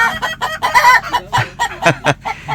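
Small young hens and roosters at a chicken shop cluck in quick, loud, overlapping bursts, with a few sharper squawks breaking through the steady close-up chatter.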